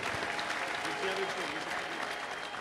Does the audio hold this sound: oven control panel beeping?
no